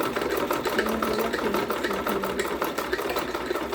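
A sewing machine runs steadily and close by, its fast mechanical chatter and motor hum continuing evenly throughout with no pauses.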